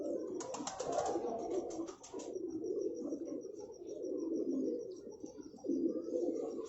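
Pigeons coo in low, throaty repeated rolls at close range, overlapping one another in a steady murmur, with a brief burst of fluttering or chirpy clicks near the start.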